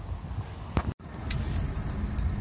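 Car driving along a snowy road during snowfall, a steady close interior rumble of engine and tires with a brief dropout and a few light clicks, no talking.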